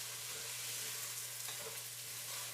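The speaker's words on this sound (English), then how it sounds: "you're frying the rice before it gets cooked" Rice frying in shallow oil in a pan while being stirred, a steady broadband sizzle with a low constant hum beneath, continuous and even throughout.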